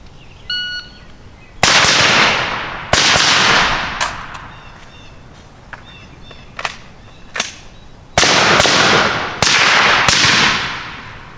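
Sharp rifle shots crack out during a static rifle drill on a range, several loud reports in quick pairs and groups with short pauses between, close and echoing, no talk.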